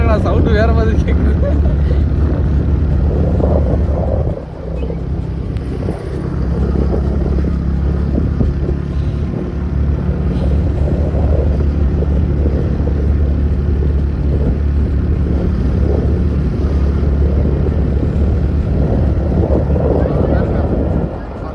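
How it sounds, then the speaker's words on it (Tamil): A vehicle climbs a steep road near Elk Hill in Ooty, its engine giving a loud continuous low rumble mixed with heavy wind buffeting on the microphone, with people talking over it. "வண்டியோட சவுண்டு வேற மாதிரி கேட்குது."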